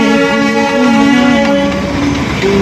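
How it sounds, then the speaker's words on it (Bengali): Darjeeling toy train passing at close range, steady rumbling with strong sustained tonal harmonics like a horn or engine drone throughout, loud and continuous with no voices. "এই যে টয় ট্রেন যাচ্ছে, টয় ট্রেন।"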